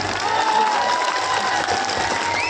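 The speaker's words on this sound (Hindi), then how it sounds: "अब बजाओ ताली" Clapping from an audience at a political rally fills the whole stretch, a steady, dense wash of many hands with some crowd murmur mixed in, fairly loud and continuous.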